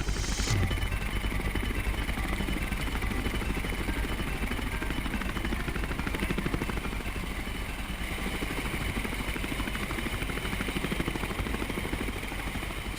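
An RCMP rescue aircraft approaching a river rescue team, a loud, continuous, throbbing rotor and engine roar that stays close and steady throughout.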